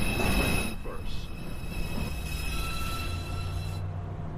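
NYC subway 2 train at Beverly Road station, rumbling and screeching wheels close by with high metallic squeal tones over a steady low roar, fading slightly toward the end.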